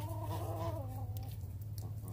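A hen with a broken beak gives a short run of clucking calls up close, the calls fading after about a second, over a steady low hum that continues to the end.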